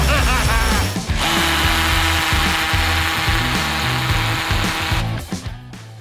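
A power drill fitted with an 8 mm bit grinds into a concrete block, a loud, close whine with rattling, juddering pulses that runs for about five seconds before stopping abruptly.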